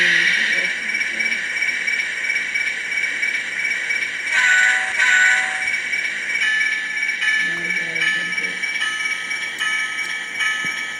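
An Atlas Classic RS1 model locomotive with a DCC decoder runs on track with a steady mechanical hum, tonal whine and faint rattle, and a brief louder swell partway through.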